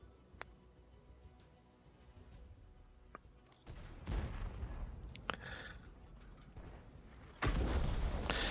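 Artillery shells slamming into a tank in World of Tanks, heavy booming impacts with a low rumble, first around the midpoint and again near the end, after a quieter stretch of faint ticks and distant pops.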